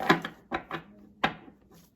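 A tarot card deck being shuffled by hand, giving a few separate soft, papery bursts of cards slapping and sliding together, close and fairly quiet.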